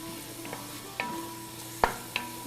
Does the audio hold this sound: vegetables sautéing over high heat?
yes